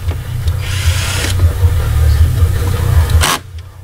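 A power screwdriver drives two Phillips screws into the corners of a Mopar mesh grille on a Chrysler 300, a steady motor whir running close and loud for about three seconds before cutting off abruptly.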